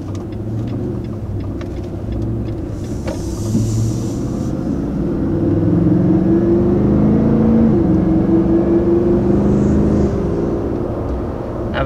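A 2020 Nissan Titan PRO-4X truck engine revs steadily, a loud continuous low drone that swells and holds through the middle with rising and falling pitch sweeps, with no talking.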